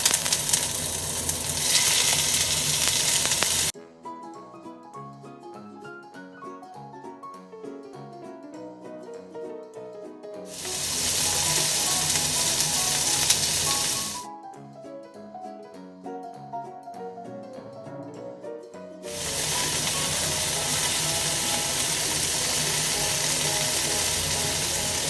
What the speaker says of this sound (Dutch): Nu gaan we bakken.